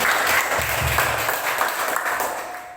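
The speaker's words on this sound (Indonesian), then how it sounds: "Kita beri tepuk tangan yang meriah" An audience claps loudly and steadily at a school teachers' event, a dense wash of many hands that slowly fades, with faint voices underneath.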